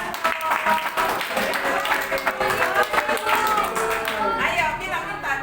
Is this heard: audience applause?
yes